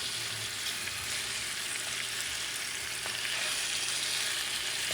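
Korean-style short ribs (galbi) sizzle steadily and loudly in a pan as they are moved around, a continuous close hiss of frying with no talk.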